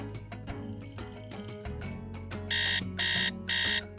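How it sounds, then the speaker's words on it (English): Alarm clock in the Nancy Drew game Secret of the Scarlet Hand ringing in three loud, evenly spaced bursts near the end, over the game's background music. "I feel like I'll just set an alarm for"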